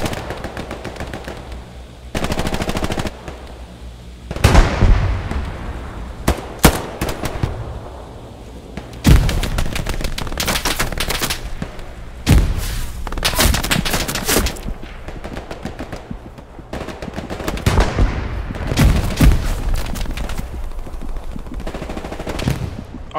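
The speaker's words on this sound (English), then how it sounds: "Artillery." Gunfire and shelling in a Hell Let Loose battle, with bursts of rapid machine-gun fire and heavy booming impacts arriving in clusters between quieter gaps, loud and close.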